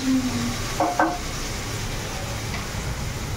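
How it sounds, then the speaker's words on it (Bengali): Potatoes and carrots frying in a pan, a steady hissing sizzle at close range with a brief stir or clink near the start, no talk. "এখানে আলু আর গাজর ভাজা বসিয়েছি"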